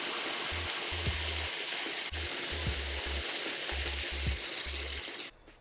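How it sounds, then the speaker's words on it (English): Tomatoes sizzle and fry in a foil-lined skillet as they blacken, giving a steady loud hiss with faint stirring or turning clatter, then a drop in the sizzle near the end. "Start adding the tomatoes to this pan. We're going to cook these, turning occasionally until they're black on all sides."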